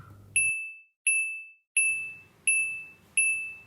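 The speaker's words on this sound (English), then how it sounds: "that's my phone." A smartphone notification rings out as five bright, identical chimes at a steady interval of about seven tenths of a second, each ringing briefly and fading in an otherwise quiet room.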